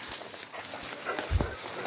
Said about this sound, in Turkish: Nazmiye Güven'in gösterdiği yerde özel eğitimli köpeklerle arama yapıldı